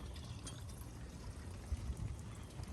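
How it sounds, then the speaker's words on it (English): Water pouring steadily into a wrecked 2018 Ford F350 King Ranch being rebuilt, a low continuous gushing fill heard close and alone. "We're filling it up with water to see if there's any oil leaks."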